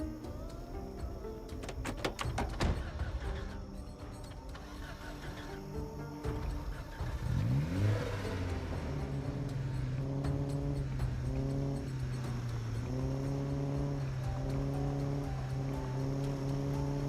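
A car in the zombie survival game Project Zomboid drives steadily while its engine revs. The engine note climbs in pitch and then holds a loud, continuous drone, with sharp thumps near the start.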